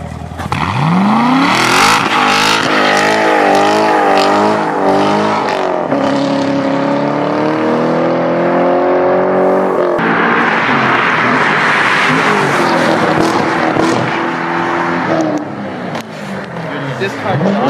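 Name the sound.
Corvette engine revving loudly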